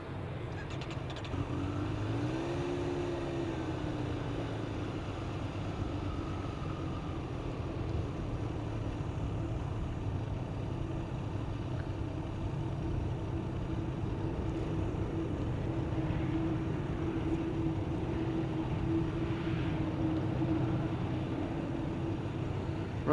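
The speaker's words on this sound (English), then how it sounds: "Dreamliner. Taxiing onto the runway over here." A KLM Boeing 787 Dreamliner taxis onto the runway at Amsterdam Schiphol Airport, a steady, continuous engine drone with a low rumble and a faint rising whine, heard from a distance throughout.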